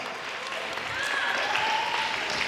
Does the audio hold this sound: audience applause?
yes